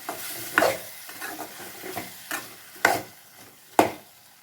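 A spoon stirring potato and drumstick masala curry in a pan, with a few sharp scrapes and knocks against the metal among softer mixing sounds and a faint sizzle.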